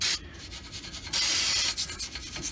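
A wire brush scrubbing the brake hub surface of a 2012–2016 Honda CR-V during front brake replacement, giving rapid close rasping strokes in bursts with a few brief pauses.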